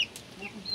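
Hens cluck softly in a backyard coop, a few short, faint clucks scattered over a quiet background with a sharper bird call near the end.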